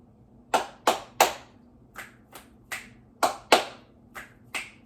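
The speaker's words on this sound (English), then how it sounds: "I'm bringing my clap snaps back." Crisp hand claps and finger snaps during a stretching workout, about ten sharp hits in an uneven rhythm, close and clear in a quiet room with no talking.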